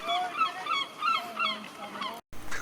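Repeated honking, squawking seagull calls ring out in a quick series, fairly close and loud, with no talking, near industrial docks in Tenby, Wales.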